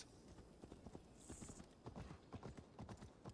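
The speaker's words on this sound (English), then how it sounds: "That was a horse's hoof, basically." Horse hooves in a video game, a steady rhythmic clip-clop of hoofbeats, faint and quiet throughout, with occasional soft background noise.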